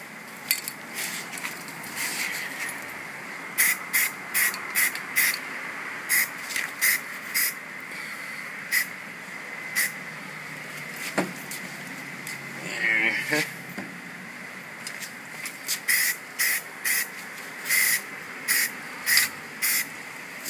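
Short bursts of spray paint hissing onto a rifle and suppressor through a Kryptek camouflage stencil, close and repeated in irregular rhythm with gaps between sprays, with some faint clinking.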